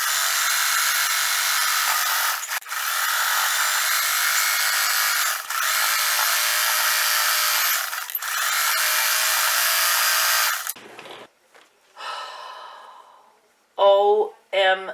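A sewing machine stitches along the edges of a fabric quilt block with a continuous close mechanical whir, dipping briefly a few times. It then stops and a voice speaks.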